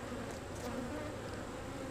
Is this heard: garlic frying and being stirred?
no